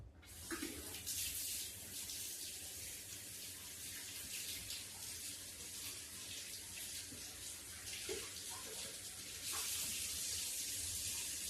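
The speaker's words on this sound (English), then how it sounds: "I'm gonna have to wash my hands." Tap water running steadily into a sink while hands are washed in a kitchen, a continuous close hiss and splash that brightens near the end, with no talk.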